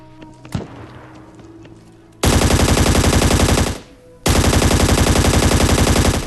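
Automatic gunfire in the ScarFall 2.0 mobile shooting game: one sharp shot, then two long, loud, rapid bursts separated by a short pause, with no talk.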